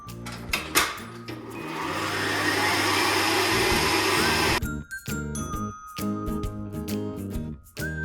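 An electric mixer whirs steadily as it creams butter and half the usual sugar for a banana loaf, a loud continuous buzz lasting several seconds amid music with chiming tones, then cutting out as the music carries on.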